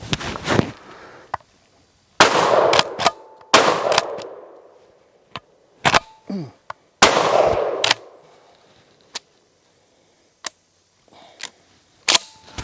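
Real McCoy PAS 12 pump shotgun fired outdoors, several loud separate booms with short echoing tails, spaced a second or more apart, interspersed with metallic clacks of the pump action cycling, no talk.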